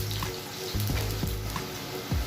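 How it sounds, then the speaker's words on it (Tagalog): Garlic and onion sautéing in a pan as the first step of cooking beef igado, a steady close sizzle with a few soft stirring knocks, no talk. "So una, lagyan natin ng garlic, onion. Sutay natin muna guys hanggang sa mag golden brown."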